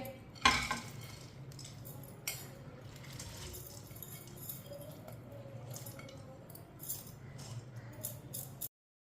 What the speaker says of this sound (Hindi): दाल डालेंगे।